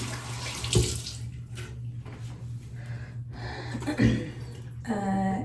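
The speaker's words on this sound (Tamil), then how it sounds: "ஸோ கை மட்டும் வாஷ் பண்ணிக்கிறேன்." Running tap water pours steadily while hands are washed beneath it, with brief splashes and a short throat-clearing near the start and again midway.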